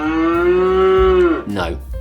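A smart speaker plays a cow moo effect: one long, loud, steady bovine moo lasting over a second, then a short trailing low grunt, with no talking over it.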